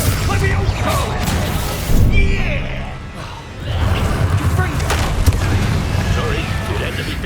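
A Confringo spell detonates in Hogwarts Legacy with a heavy, close boom about midway, surrounded by crashing, crackling combat noise that swells, dips briefly, then returns busy and loud.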